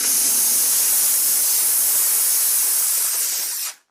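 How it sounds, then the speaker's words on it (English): Steam cleaner blasting along the boost sole of an adidas Ultra Boost sneaker, a loud, continuous close hiss for several seconds before it abruptly cuts off. "you're going to actually run the steam along the boost, starting near the fabric and down"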